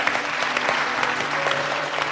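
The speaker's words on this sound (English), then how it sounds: "Give yourselves a round of applause" Studio audience and contestants applaud on a cooking competition show, a steady, dense burst of clapping that fills the short moment at close range with a faint tonal hum beneath.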